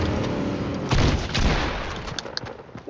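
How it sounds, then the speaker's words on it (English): Gunfire during a Fortnite match: a ragged burst of rapid shots and sharp impacts, loud and close, with a few heavier booms midway and scattered cracks trailing off. "Ooh, gunshot."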